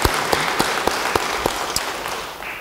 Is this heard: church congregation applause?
yes